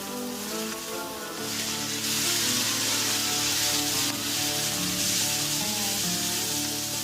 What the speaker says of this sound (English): you're gonna throw your mirepoix in there